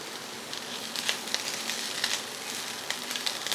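A broccoli and potato stir-fry with coriander leaves sizzling in a pan, a soft steady crackle with occasional light stirring ticks, fairly quiet and close.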